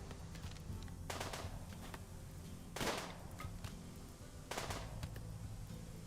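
Distant mortar fire in the video game Rimworld: three or four dull, spaced booms rising out of a steady background hum, each a short muffled burst.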